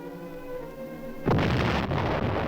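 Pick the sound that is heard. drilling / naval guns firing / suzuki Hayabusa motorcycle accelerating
naval guns firing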